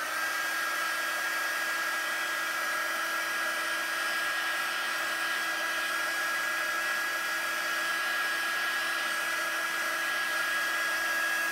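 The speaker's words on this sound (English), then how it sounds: "you can hit it with a heat gun" A heat gun blowing steadily while drying alcohol ink on vellum, a constant loud whirring hiss with a fixed tone that runs unbroken and alone.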